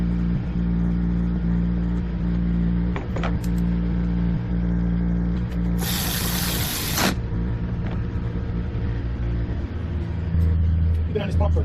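A Sea-Doo 951 DI two-stroke jet ski engine, previously locked up, being turned over: a loud continuous low rumble and drone throughout, with a short burst of hissing noise in the middle and people talking over it.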